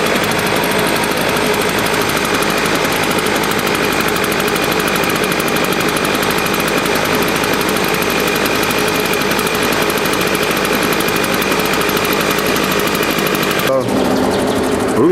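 Husqvarna 150 BT backpack leaf blower with a repaired gas leak running, a loud, steady, buzzing two-stroke engine drone held close for most of the clip before cutting off abruptly near the end.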